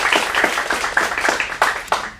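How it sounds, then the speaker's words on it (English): Scattered handclaps from a small audience at a teen acting studio showcase in Phoenix, a sparse, uneven round of applause with distinct individual claps rather than a dense roar. "One more round of applause."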